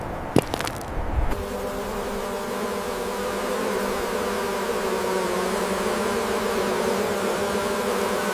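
Wild bees, the source of Gurung mad honey, drone in a dense, steady buzz on a mountain cliff. It stays close and even after a few sharp knocks at the start, with no voices.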